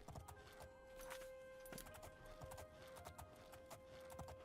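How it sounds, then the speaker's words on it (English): Horse hooves clip-clop in the video game Elder Scrolls IV: Oblivion, a steady string of faint, even footfalls over a constant low game hum, with no one speaking. "Anytime you want horse ASMR, I'm here."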